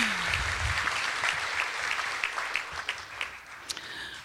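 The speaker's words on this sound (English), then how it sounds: "Round of applause for these graduates." Audience applause for graduates at a university commencement ceremony: a steady wash of many hands clapping at a distance, quiet, with some closer individual claps growing distinct as it winds down.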